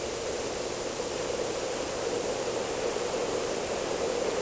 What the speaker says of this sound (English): The only sound you hear is from the air that is slipping by outside.